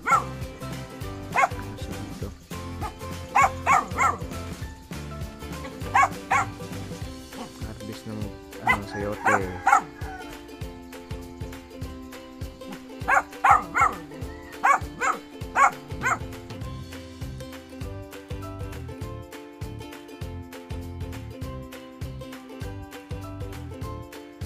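A dog barks and yips repeatedly in irregular bursts on a farm in hilly countryside, moderately close, over a steady background.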